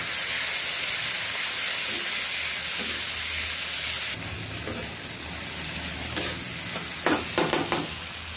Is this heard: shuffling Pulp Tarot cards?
no